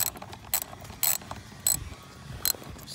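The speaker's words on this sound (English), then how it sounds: "you have a bolt here, actually an 8mm. So what you can do is get your wrench," A ratchet wrench works an 8mm bolt on the intake of an Infiniti G37/Q60, close up, giving a series of sharp clicking bursts at irregular intervals over a low background hum.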